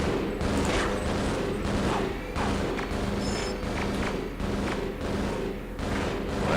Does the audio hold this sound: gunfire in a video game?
yes